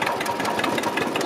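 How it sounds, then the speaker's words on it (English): A 1946 Field Marshal Series 1 vintage tractor with a single-cylinder engine runs close by at a vintage rally, its steady rapid chugging beat filling the clip. "Single cylinder engine as I say for that."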